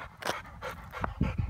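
An American pit bull panting hard while playing football, quick close breathy gasps in uneven bursts over about a second and a half.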